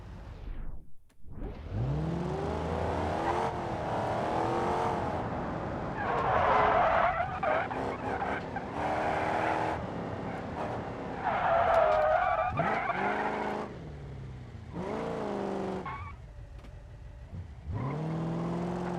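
Car tires skid and squeal under handbrake turns in a racing video game, with engine revving between slides; the screeching comes in repeated loud bursts through most of the stretch.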